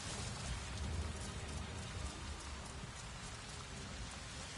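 Steady rain falling in Avatar: Frontiers of Pandora, a continuous hiss of drops pattering on surfaces close by, even and unbroken throughout, with a low rumble beneath and no voices.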